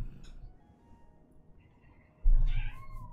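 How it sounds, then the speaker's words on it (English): A cat stuck outside a room meows once from just beyond the door, close and clear after a stretch of faint background sound. "One of my cats is stuck outside the room."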